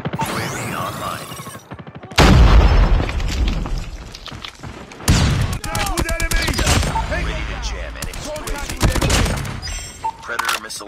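Rapid bursts of EM-2 assault rifle fire in the Call of Duty: Mobile video game, loud and close, with sharp repeated shots, booming impacts and brief pauses between volleys over about eleven seconds.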